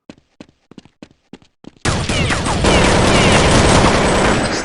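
Counter-Strike match gunfire: a string of sharp, separate shots with short gaps, then a loud, dense, continuous burst of rapid fire that runs to the end, close and alone with no talking.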